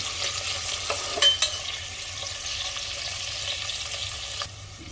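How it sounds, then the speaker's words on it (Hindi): Spiced ridge gourd and potatoes frying in oil, a continuous sizzle with a utensil scraping and clinking against the pan as the mixture is stirred. "और इसके साथ इसे भूनते जाएंगे इस तरह से, घुमा घुमा के हल्का हल्का।"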